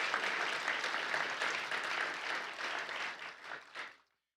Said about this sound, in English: Let's give them a big round of applause for being in attendance with us today.